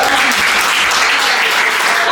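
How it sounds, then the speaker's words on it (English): Audience applause for lingerie models at a Valentine's Day lingerie show, a dense sustained clapping crowd, loud and close throughout. "can I get a round of applause for the models?"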